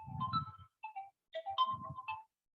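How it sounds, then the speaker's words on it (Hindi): A phone ringtone for an incoming call plays a repeating melodic tune in two bursts separated by a short gap, fairly quiet and heard on its own with no talking. "बार बार मुझे ऑफिस से, हेड ऑफिस से फोन आ रहा है"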